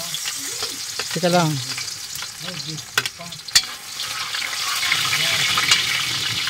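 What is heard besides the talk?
garlic frying in pan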